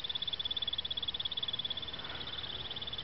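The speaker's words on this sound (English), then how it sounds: "There's a big frog?" A frog croaks at night in a rapid, regular pulsing trill that runs steadily through the whole stretch, fairly faint and with no voices.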